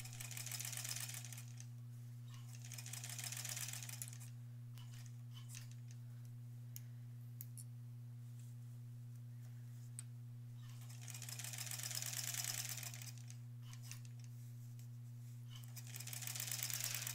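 A sewing machine stitches a lined zipper pouch in short, faint runs that come and go over a steady electrical hum.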